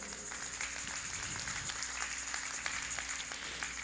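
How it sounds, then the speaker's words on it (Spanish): Steady applause fills a church congregation, a dense patter of clapping that stays even and moderately loud throughout with no voices over it. "Dele un aplauso al Señor."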